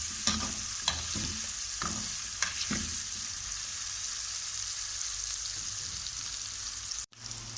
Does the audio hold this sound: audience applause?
no